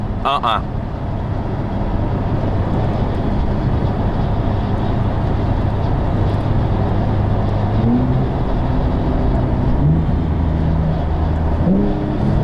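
A 2021 Porsche 992 911 Turbo S pulls hard in third gear, heard from inside the cabin as a loud, steady engine drone with rising tones and brief shifts near the end.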